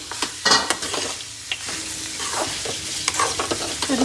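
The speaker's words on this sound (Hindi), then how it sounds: "अब इसके अंदर मैं मिक्स करूँगी चीनी," Sugar is stirred into milk-based carrot halwa in a pan, loud scraping strokes of the spoon over a continuous sizzle, close and without speech.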